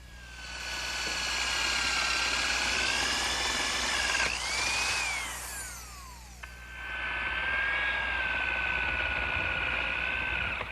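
Electric drill boring an angled 12.5 degree hole in wood with a template guide for a rocking horse project, a steady high whine that dips as the bit works through, then resumes.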